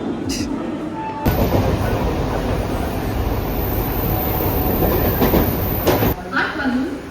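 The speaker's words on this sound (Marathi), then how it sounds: "8:20 कल्याणला जाणारी धीमी लोकल थोड्या वेळा प्लॅटफॉर्म क्रमांक 1 वर येत आहे" A Mumbai slow local train bound for Kalyan rolls in loud and close at the platform, a steady rumbling roar with rail clatter that lasts several seconds before dropping away. A person speaks briefly at the very start and at the end.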